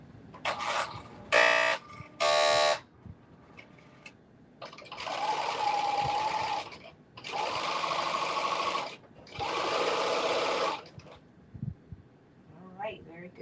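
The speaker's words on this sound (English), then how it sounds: "I'm serging around the edges of the caftan, just to make it easier for me to hem it." A serger runs around the edges of a black caftan, sounding as several sustained, steady mechanical buzzing runs of a few seconds each, loud and close, with short bursts before them and a voice speaking in between.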